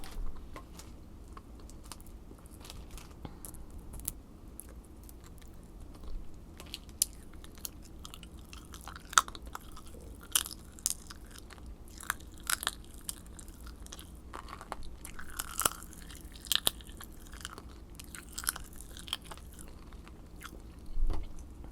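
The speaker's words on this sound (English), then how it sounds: "It's more like I have to chew it, each bite I take you hear some crackles." Pop Rocks candy chewed close to the mouth, with scattered faint crackles and sharp little pops from each bite over a quiet, soft background.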